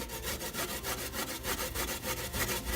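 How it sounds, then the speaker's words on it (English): Fresh ginger scraped against a grater gives a close, continuous rasping made of quick, regular back-and-forth strokes, with no talking. "First, you're going to grate your ginger."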